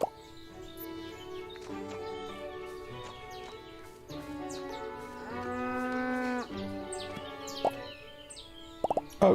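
Cattle lowing in the farming game Everdream Valley, several drawn-out harmonic moos rising and falling over a steady ambient music bed, with small plopping clicks near the end.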